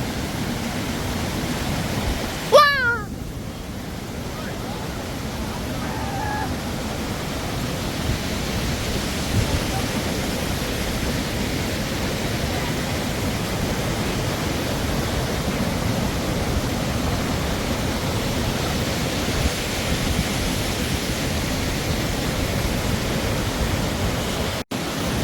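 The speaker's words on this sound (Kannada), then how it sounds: "ಇದೆ ನೋಡಿ ರಾಜ ಫಾಲ್ಸ್." Raja Falls at Jog Falls plunges with a steady, broad roar of falling water, continuous and fairly loud for the whole stretch, with a brief sharp shout near the start.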